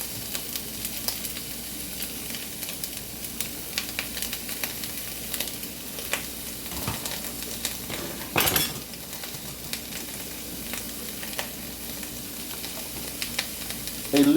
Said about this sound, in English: We're gonna put in our tomatoes.